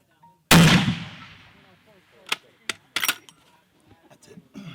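Long-range rifle shot fired at a target about 4,900 out, one loud sharp crack with a long rolling echo, followed by faint clatter and a few thumps.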